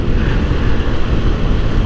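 A single-cylinder motorcycle engine revving outdoors at a resto bar, a loud, continuous rumbling roar, heavily buffeted by wind noise at the microphone.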